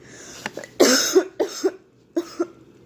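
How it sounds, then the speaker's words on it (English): A loud, harsh cough nearby, breaking into a series of hacking bursts with short pauses between them. "He coughs loudly."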